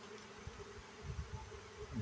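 Honey bees buzz faintly in an open hive during a honey flow check, a steady low drone that seems to come from a hive acting queenless, with no talk over it.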